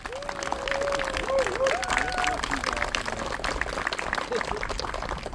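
Audience applause at a park and plaza completion ceremony for Choi Kyung-ju Square, steady clapping from a crowd under a voice carried over a PA.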